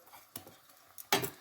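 A spoon stirring green mangoes into boiling Kerala fish curry sauce in a pot, two brief scraping clinks against the pan, the second louder, over quiet background.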